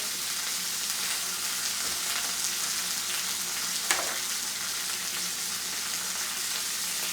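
Prosciutto-wrapped salmon frying in a pan, giving a steady, even sizzle that holds level throughout with one brief louder crackle partway in.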